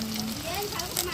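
Chicken liver pakodas frying in hot oil make a soft, steady sizzle that runs under a voice for about a second.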